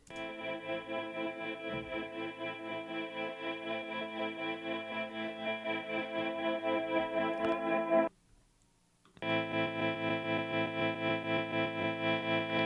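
Heavily processed, frozen guitar part from a track, distorted with chorus and echo, pulsing in a steady rhythm, cutting out briefly near the end before resuming.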